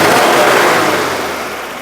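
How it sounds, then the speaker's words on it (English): An air-cooled Citroën 2CV engine runs loud and steady as a broadband roar with its cooling fan, fading slightly toward the end, with no voices. "doesn't she sound lovely? I'm just letting her run, because the beauty of an air-cooled car is you literally do blow the cobwebs out"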